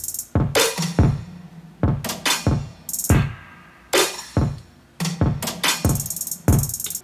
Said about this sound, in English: So obviously we gotta put in the sprinkler hats.